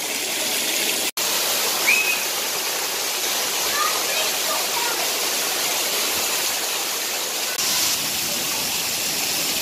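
Ingleton waterfall, a loud continuous roar of falling water heard close up, steady broadband rushing with a brief dropout and slight swells, no speech over it.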